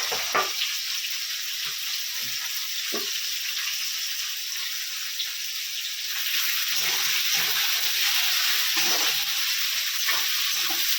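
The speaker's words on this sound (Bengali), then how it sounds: "এবার পেঁয়াজটা দিয়ে দেবো। পেঁয়াজটাকে বেরেস্তা করবো, লাল লাল করে ভাজবো।" Sliced onions fry in hot oil for Bengali mutton kosha, a steady bright sizzle throughout that swells louder partway through, with a few soft scrapes and stirs.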